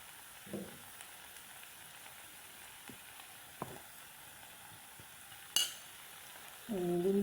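Okra frying in a pan with a soft steady sizzle as green chillies are added, broken by a few faint clinks and stirring sounds and a louder sharp knock near the end.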